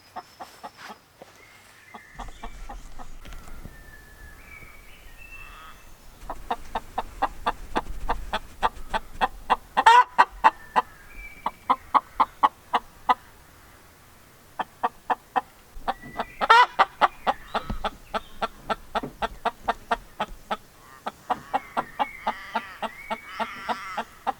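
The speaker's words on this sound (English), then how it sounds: "let me show you the chickens, because she's making a lot of noise." A hen clucks and squawks in a steady stream of short, sharp calls, close by, with occasional louder squawks standing out.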